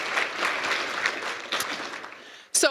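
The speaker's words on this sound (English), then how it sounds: "one more round of applause for all the awesome students" A room of people claps steadily at a business plan competition awards ceremony, fading gradually before a voice briefly starts speaking at the end.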